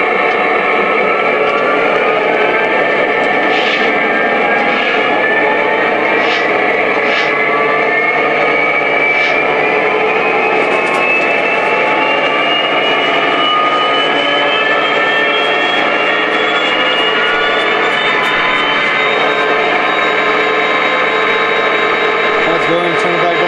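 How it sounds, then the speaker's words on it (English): A Lionel Pennsylvania Railroad GP35 model diesel locomotive's sound system steps up through its engine RPM levels, a steady droning diesel hum with a rising whine that climbs gradually, loud and continuous throughout. "play you all 8 of the RPM levels that are on this engine"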